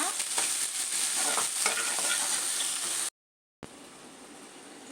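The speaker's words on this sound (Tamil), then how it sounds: "ஒரு வெங்காயம் சின்ன சின்ன பீஸாக கட் பண்ணி வச்சுக்கிறேன். அதை சேர்த்துக்கலாம். அதில் நல்லா வதக்கி விடுங்க." Finely chopped onion sautés in a pan for garlic fried rice, a dense hissing sizzle with light stirring, cutting out briefly to silence before resuming more quietly.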